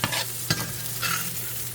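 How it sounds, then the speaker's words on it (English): Fries sizzle and crackle in hot oil in a pan, with a few scraping stirs, close by and without speech. "Fries are still over there frying"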